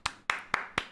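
Four sharp, evenly spaced hand claps ring out close and loud, with no talking over them, while a Harry Potter film plays.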